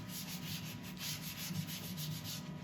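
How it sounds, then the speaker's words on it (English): Abrasive paste being rubbed into turned wood spinning on a lathe, a steady close hiss of friction with rhythmic swells as the cloth works the surface, continuous and unbroken with no voices. "We rub this in, building the speed as we go along, starting slow and then increasing."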